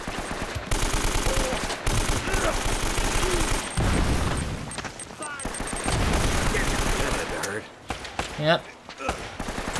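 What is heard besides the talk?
gunfire from the video game Uncharted: Drake's Fortune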